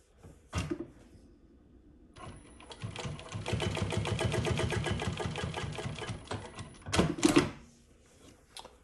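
An industrial Prosew PS-1933B sewing machine runs a line of stitching, a steady fast mechanical rattle of about five seconds, bracketed by sharp clacks and thumps of the machine's mechanism before and after.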